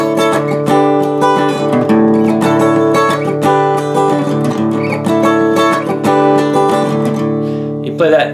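An acoustic guitar plays a song, with a thumb-picked bass line on the low strings. Repeated plucked notes ring with sustained harmonics and a steady rhythm, loud and close, with no talking.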